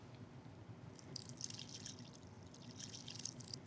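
Liquid poured gently into several dishes at a dinner party, a soft trickling and dripping that comes in two bursts, faint and close, with no talking.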